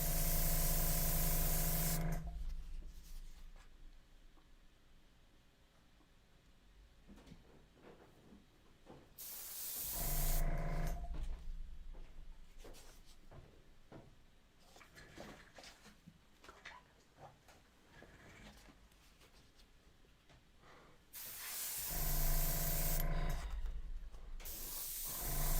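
Airbrush spraying paint onto toned mixed media paper, giving a steady soft hiss in a few long bursts separated by quieter gaps, close and alone.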